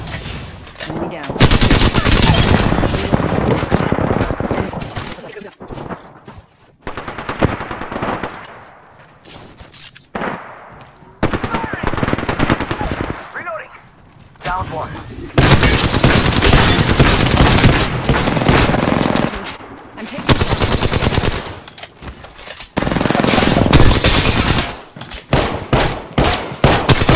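Loud automatic gunfire erupts in the Apex Legends shooter game, with long sustained bursts broken by short gaps and quieter stretches. The firing is close and heavy throughout.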